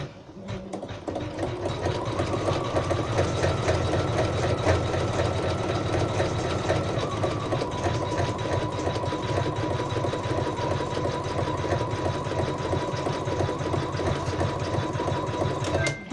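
A sewing machine runs continuously, stitching a satin edge on a fabric coaster, with a fast rhythmic mechanical whir and needle clatter close up, pitch shifting slightly as speed changes.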